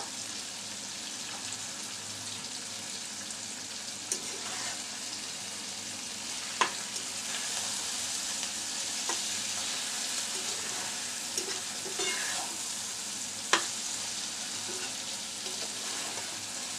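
Scrambled egg with tomato and coriander leaves stir-frying in a pan, giving a steady bright sizzle throughout with a few sharp spatula clicks and taps scattered over it, no voices.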